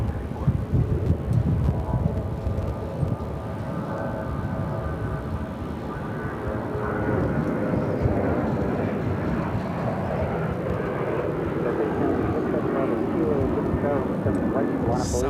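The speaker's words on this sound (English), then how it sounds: "Southwest Flight 2273 headed to Ontario." Southwest Airlines jet at Phoenix Sky Harbor airport, a low, rumbling engine roar at moderate distance that swells slightly and holds, with a person talking over it throughout.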